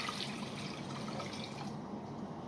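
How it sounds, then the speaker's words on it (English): Water poured from a sink tap into cups for a homemade drink, a steady continuous splashing trickle that runs at an even level throughout, close by with no talking. "You pour the drinks in"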